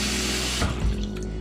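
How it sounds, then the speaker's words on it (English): Tap water runs into a pot, a steady rushing stream that shifts in tone partway through as the flow or filling level changes, close and fairly loud. "Now you're gonna fill it with water."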